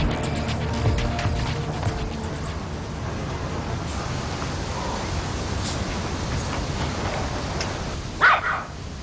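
Dogs bark in a noisy outdoor scene, with scattered yips and whimpers over a dense hiss, and one sharper, louder bark near the end.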